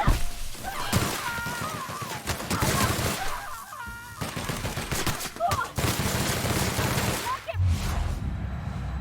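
Rapid bursts of gunfire crackle in The Outer Worlds, several volleys of loud shots over a dense game soundscape, with a voice heard briefly among them.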